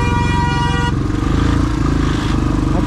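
Motorcycle engine laboring as the bike climbs uphill on a mountain road from Lachen toward Gurudongmar in Sikkim, a loud, close, steady rumble with a brief horn-like tone at the start.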